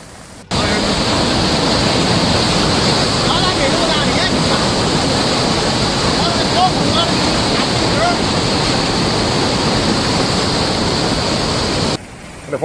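A storm-swollen river after Typhoon Doksuri in northern China rushes in a loud, continuous roar of floodwater, steady and close, with wind noise blending into the torrent.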